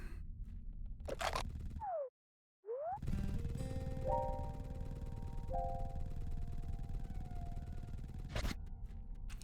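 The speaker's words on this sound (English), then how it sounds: "something happened to the bell. Being destroyed." A bell is destroyed in Kulebra and the Souls of Limbo: a scraping crunch, a short silence, then swooping tones and sustained ringing chime notes over a continuous low ambient bed, closing with another crunch.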